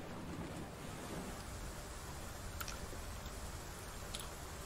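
Steady, faint wash of waves in the video game Rune II, a continuous noisy surf bed with a couple of small ticks over it.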